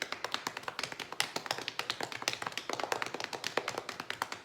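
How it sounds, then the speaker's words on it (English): Kindergarten to second-grade children patting their hands together in a music class, a quick rhythmic stream of overlapping soft pats that stays even and close throughout, with no voices. "we're gonna pat."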